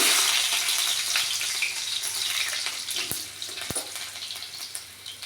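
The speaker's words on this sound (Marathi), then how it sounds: "1 चमचा मोहरी घालणार आहोत, 1 चमचा जिरे, त्यानंतर लसूण," Mustard seeds, cumin and garlic hit hot oil in a pan while cooking vangyach bharit, a loud bright sizzle that gradually fades, with a couple of sharp pops near the end.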